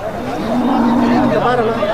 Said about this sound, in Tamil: அழகான கறவை மாடுகள்லாம் நிற்கிது பாருங்கள்